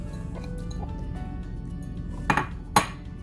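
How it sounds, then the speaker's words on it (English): Soaked and drained rice goes into an Instant Pot, a quiet background hum followed by two sharp metallic clinks of a utensil against the pot near the end. "So I have my soaked and drained rice here. Add it back into the pot,"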